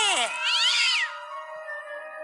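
A single drawn-out cat meow in an animated Buddhist Jataka tale, rising and falling in pitch and then trailing off into a soft sustained tone, heard clearly on its own.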